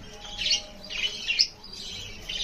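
Pet parrots chirp nearby in quick, bright bursts, three short clusters of high tweets in a row with no talking.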